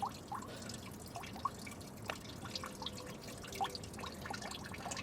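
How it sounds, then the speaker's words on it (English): Coolant drips from the radiator of a Volvo 340/360 during a radiator change, irregular small plinks falling every half second or so over a faint steady background, no talk. "once the radiator's finished dripping"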